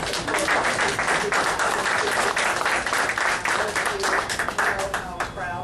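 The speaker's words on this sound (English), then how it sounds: "when you clap for us, that's like the most humbling thing I can imagine" Sustained applause from an audience at an event about veterans housing, dense, steady clapping filling the whole stretch at close range, with some voices mixed into the crowd noise.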